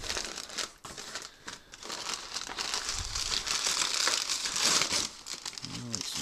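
Packing paper crumpled by hand while unpacking a package of computer parts, close crinkling and rustling that builds into dense crackling, with a brief voice near the end.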